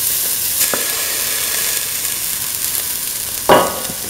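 Ground mint hits a hot pan with a continuous bright sizzle close by, a sharper burst of crackling flaring up near the end as more goes in.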